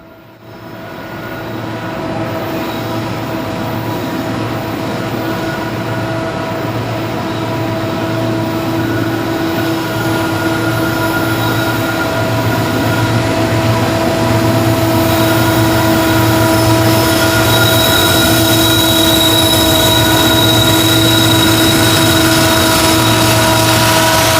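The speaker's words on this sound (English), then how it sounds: "if you'd like to hear the train working hard as it continues its ascent of the grade through Ridgeway" A Norfolk Southern freight train labors up the Ridgeway grade on the Winston-Salem District line, its diesel engines droning loud and steady with strong tonal hums that swell gradually as the train nears, with no talk.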